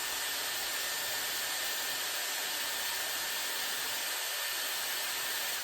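A Dyson Airwrap blows cold air on hair in a steady, loud, unbroken rush of air noise that holds at the same level throughout, with no voices.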